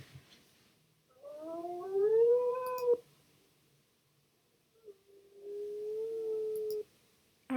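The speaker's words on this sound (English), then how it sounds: "It's like a bold kind of howl." A wolf in the video game WolfQuest 3 howls twice, each long, rising, tonal call sustained for about two seconds with a quiet pause between, clear and close with no talk.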